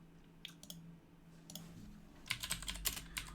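Quick, light keystrokes on a computer keyboard typing a search query into a web browser, sparse at first, then a denser run of clicky taps near the end over a faint steady hum.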